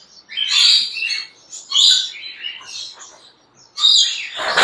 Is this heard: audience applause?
no